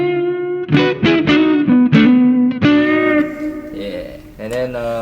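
Electric guitar through a Vox AV15 amp on a clean tone with reverb, playing a short run of plucked single notes and chords, close and fairly loud, with a reverb tail ringing between notes.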